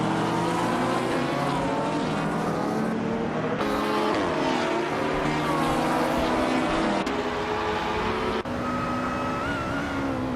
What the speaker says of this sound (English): We're all set for some exciting AI car races